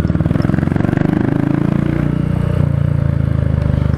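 A Royal Enfield Meteor 350 motorcycle engine rumbles loud and close, its exhaust pulsing in a rapid throbbing beat that swells slightly as the throttle shifts.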